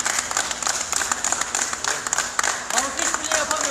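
A crowd applauds at a protest outside Ünye State Hospital in Turkey, a dense, continuous patter of many hands clapping with voices talking over it throughout.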